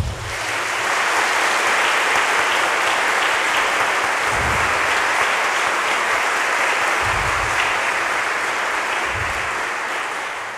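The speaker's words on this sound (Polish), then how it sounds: "Bardzo proszę jeszcze raz o brawa." Sustained, dense applause from a large audience at a literary award gala fills the hall steadily from start to finish, loud and continuous with a few low thumps underneath.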